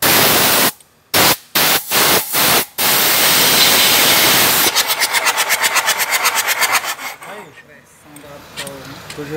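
A Toyota Hilux engine with water and diesel in its cylinders cranks over on the starter, a loud rhythmic churning with regular pulses. It comes after bursts of hissing static and trails off to quieter sounds at the end.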